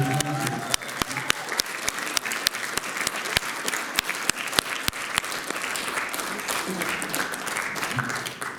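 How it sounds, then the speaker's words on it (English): An audience applauds jazz musicians at a school jazz club presentation. The dense, steady clapping holds at a constant level throughout, with sharper individual claps standing out from the crowd. "I think they both deserve a huge round of applause."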